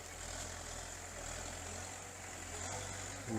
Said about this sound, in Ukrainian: Саме оре трактор тут людям город.